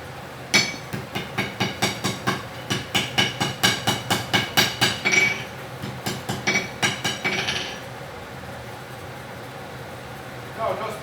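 Hammer strikes steel at a knife maker's forge during forge welding: a quick, steady run of about twenty ringing blows, loud and close, then a pause and a faint clink near the end.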